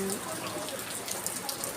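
Heavy typhoon rain falls as a steady broadband wash with scattered drop splashes, continuous and fairly close through the whole stretch, with faint talk in the background.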